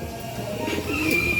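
Soft, low racing pigeon cooing in a short burst, with a faint background hum and a brief higher whistle-like tone.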